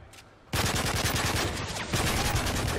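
Sustained automatic gunfire in the shooter Modern Warfare 3 during a multiplayer firefight, beginning abruptly after a quiet moment and continuing as dense, loud, rapid bursts with overlapping shots to the end.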